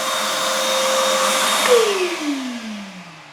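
A vacuum cleaner runs loudly while cleaning out an aquarium sump, a steady whine that drops in pitch and winds down near the end as the motor is switched off, with no talking.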